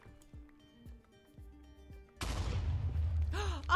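TNT exploding in Minecraft, a sudden loud blast with a rumbling, crackling tail that follows a series of soft, regular ticking thuds.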